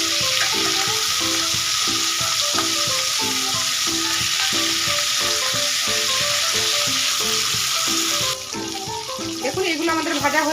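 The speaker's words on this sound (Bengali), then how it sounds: "এইবার এই তেলের মধ্যে চিকেনগুলো ভেজে নেব।" Chicken leg pieces frying in hot oil in a pan: a loud, continuous sizzle with rhythmic clinks of a utensil turning the meat, and a brief shift in tone near the end.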